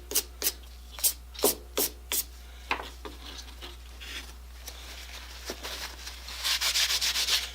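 Rag wiping off the outside of a dirty oil pump for a Mac Timber Bear chainsaw, a series of short rubbing strokes in a steady rhythm, then a longer, louder scrubbing pass at the end, close and without talk.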